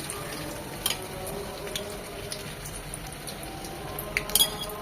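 Onion paste goes into hot mustard oil in a pan while cooking chepa shutki bhorta, producing a constant soft frying hiss with a few light utensil clinks, close and without talk.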